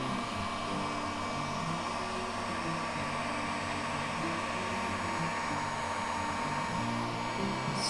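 A hot air tool runs on high heat with its fan to melt wax, producing a loud, constant blowing rush with a steady whine and hum that never lets up.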